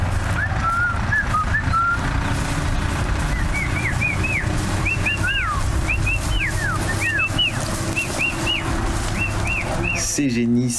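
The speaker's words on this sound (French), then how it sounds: "Ces génisses âgés de 8 à 10 mois, sensibles au sifflement de Maël et Antoine" A person whistles repeatedly to heifers in short rising-and-falling bursts, a steady series of calls over outdoor background noise, ending with a brief clatter.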